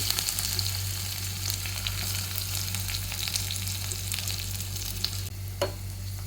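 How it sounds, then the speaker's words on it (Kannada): Mustard seeds, cumin, curry leaves and a small chopped onion sizzle steadily in hot oil for a tempering, a continuous close frying hiss with light crackles and occasional stirring, no voices. "ಎಣ್ಣೆ ಕಾದ ಮೇಲೆ ಅದರಲ್ಲಿ ಸಾಸಿವೆ ಮತ್ತು ಜೀರಿಗೆನ ಹಾಕ್ಕೊಳ್ತಾ ಇದ್ದೀನಿ ಹಾಗೆ ಕರಿಬೇವು ಮತ್ತು ಒಂದು ಸಣ್ಣ ಈರುಳ್ಳಿ"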